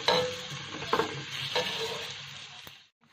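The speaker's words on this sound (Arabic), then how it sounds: "هشوح البصلايه كويس جدا لغايه ما لونها يبقى ذهبي معايا" Onion frying in ghee until golden, a dense bright sizzle with scraping spoon strokes stirring close up, continuous until it cuts off near the end.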